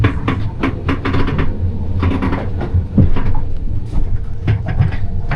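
A train in motion rattles and clatters close by in an irregular rhythm of knocks and clacks over a low, continuous rumble, loud throughout with no talking.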